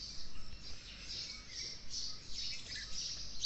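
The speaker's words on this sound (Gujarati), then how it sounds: "સવારના ઉઠીને પક્ષીઓનો અવાજ સંભળાય," Birds chirp on a village morning, with a dense, continuous twittering of many small calls at moderate distance and no talk.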